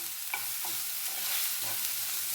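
Green chillies frying in a pan for kattae pongal, a soft steady sizzle with a few faint stirring scrapes, close and quiet with no voices.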